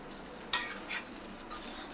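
Stuffed brinjals coated in masala being sautéed in a pan for a village-style bharli vangi, with a few scraping stirs and light sizzling bursts over a quiet background, close and fairly soft.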